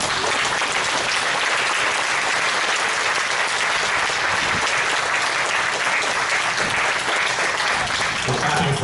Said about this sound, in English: We're clapping for yourselves, not for me.